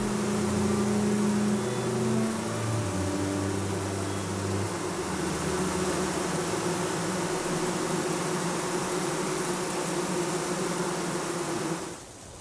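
A steady, dense hum of honey bees massed inside their hive, continuous and fairly loud throughout, with deeper drone tones in the first seconds, ending abruptly.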